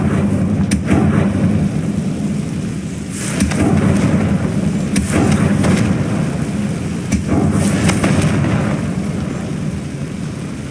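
Confringo blasting spells cast in Hogwarts Legacy, several loud booming bursts spaced a second or two apart over a continuous rumbling roar, with no voices.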